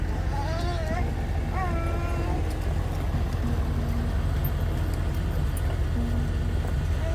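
Old Ram truck in four-wheel high pulling a trailer over cinder hills, a steady engine drone with rolling road noise and a continuous low rumble, while people talk over it.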